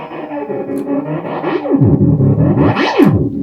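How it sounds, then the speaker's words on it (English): An electric guitar runs through a springy delay effect that behaves like a spring reverb, its notes smearing into swooping, wobbling pitch sweeps and echoing tails, loud and continuous with no talking. "Yeah, It's a delay, but it's like almost like a spring reverb."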